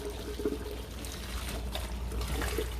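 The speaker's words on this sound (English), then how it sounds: "I'm going to pour out that excess." Excess blue dye liquid poured out of an iron-laden dyeing pot, a soft continuous trickle and splash that is fairly faint and steady, with light handling noises and a low background hum.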